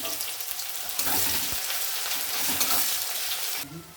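Onions frying in hot oil in a pan with cumin and a whole dried red chilli, a continuous close crackling sizzle with a few stirring scrapes, cutting off abruptly near the end.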